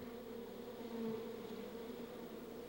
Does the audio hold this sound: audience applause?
no